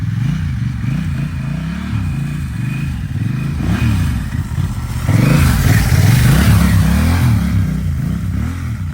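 Honda Rebel 1100 motorcycle, sharing the Africa Twin engine, idles with a rumbling pulse that rises and falls through several revs, growing louder and rougher in the second half, close and alone without talk.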